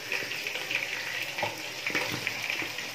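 Chicken for a white qorma fries in a pan with a soft, steady sizzle and bubbling. Quiet clinks and stirring knocks land at irregular moments, and no one speaks.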